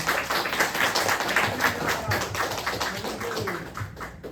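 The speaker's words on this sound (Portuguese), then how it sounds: "Uma salva de palmas para o Senhor Jesus." A church congregation claps together in worship, a dense, steady burst of many hands applauding close by for several seconds with faint voices mixed in.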